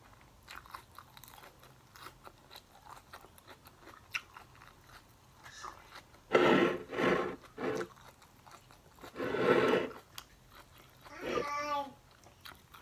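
Salmon being eaten, with three loud close bursts of wet chewing and crunching around the middle and end, separated by quieter stretches of faint background sound.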